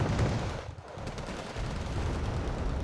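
Rapid cannon fire from an L11A5 gun in the Wargame Red Dragon strategy game, a dense, continuous battle din of shots and blasts with no clear gaps, steady and loud throughout.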